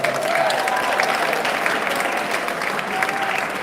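Audience applause rings out at a 20-year community celebration event, a steady, dense clapping from a crowd held at an even level for the whole stretch with no voices over it.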